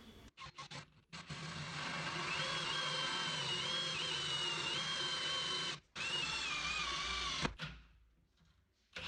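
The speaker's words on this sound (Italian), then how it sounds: "Adesso farò il foro per il lavandino su questo angolo." A power tool bores a sink hole through a wooden countertop corner for a homemade washbasin, whining steadily and loud for several seconds, stopping briefly, then resuming before winding down.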